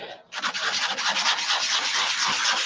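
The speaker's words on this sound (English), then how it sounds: "Do a bit of spot sanding." Steady, continuous abrasive sanding against wood spinning on a lathe, loud and close, beginning after a brief quieter moment and holding even throughout.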